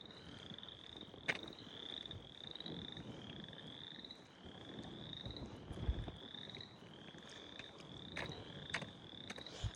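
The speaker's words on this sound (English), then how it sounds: "Oh, it's frogs, I bet." Frogs croaking at night in a steady chorus of repeated rising chirps, a few moderately distant callers over a soft rustling background with occasional sharp clicks.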